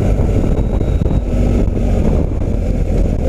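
A BMW R 1250 GS motorcycle engine drones loudly at around 5000 rpm during a ride, a dense continuous roar mixed with heavy wind buffeting and no speech.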